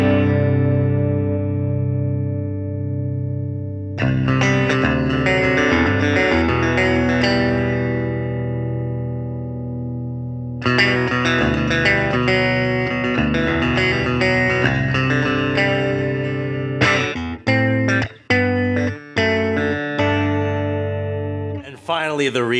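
Electric guitar played through a Two Notes CAB M+ amp simulator with enhancer EQ added, sounding sustained chords, then a pause and a second strummed passage ending in choppy staccato hits.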